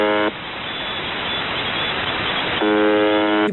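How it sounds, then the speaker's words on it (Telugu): The Buzzer, a shortwave radio station on 4625 kHz, sends a loud, steady monotone buzz that cuts out into hissing static and then returns, all heard through a narrow radio band. "ఎందుకంటే దీని నుండి బజర్ సౌండే వస్తుంది"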